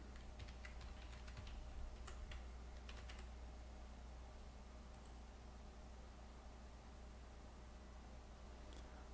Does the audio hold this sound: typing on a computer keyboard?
yes